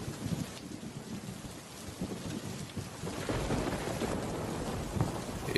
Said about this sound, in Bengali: তাছাড়া দেখো কেমন মেঘ ডাকছে, বৃষ্টিও দেখো কত জোরে জোরে পড়ছে।